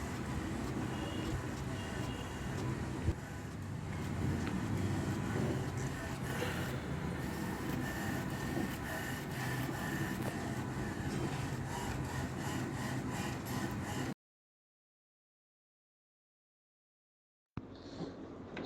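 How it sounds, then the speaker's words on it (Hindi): HP Ink Tank 319 printer feeding and printing a page, a steady grinding, rubbing mechanical whir that runs continuously, then cuts to silence before resuming briefly. "ये अभी पेज बाहर आ रहा है।"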